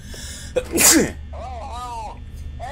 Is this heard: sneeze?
yes